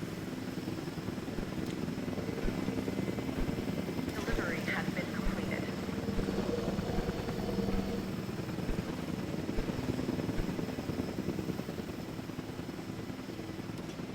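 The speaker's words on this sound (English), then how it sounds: "Here comes two of the helicopters." Helicopters fly in the video game Jurassic World Evolution 2, a steady rotor drone that holds throughout under game voice lines and talk.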